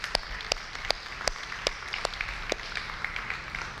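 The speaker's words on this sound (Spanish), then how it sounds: "Denle un aplauso a nuestro Dios" Scattered hand claps from a church congregation, a handful of sharp, irregular claps over a quiet, roomy background with no talk.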